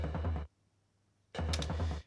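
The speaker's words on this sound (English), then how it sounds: "the underhead for this floor tom mic will sound like this" Floor tom drum with a coated skin, captured by an underhead mic, struck in two loud, booming bursts separated by a short silence, close and alone.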